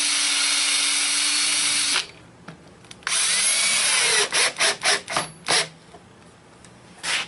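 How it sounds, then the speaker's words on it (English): A power drill drives a screw into wood for a log slab bench in a workshop: a loud continuous whir for about two seconds, then a longer run followed by several short bursts of the trigger. "I can run a screw this way and nobody will ever see it"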